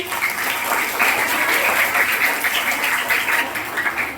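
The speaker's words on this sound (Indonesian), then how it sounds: "Tepuk tangan dulu buat Solihahnya." Steady, sustained clapping from a group audience at a children's storytelling session, dense and even throughout with no voices over it.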